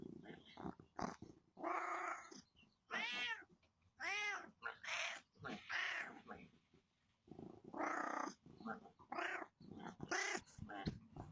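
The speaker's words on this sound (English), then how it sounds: "This cat was letting his owner know that he wanted to come inside." A cat meows repeatedly and insistently to be let inside, a string of loud, drawn-out, close calls with short pauses between them, and no talk over them.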